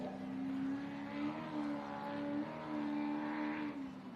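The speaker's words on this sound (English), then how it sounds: "Motor sounds strong." Race car engine at the Gundy 500 race holding a steady, strong droning pitch with slight rises and dips, heard at moderate distance with no talking.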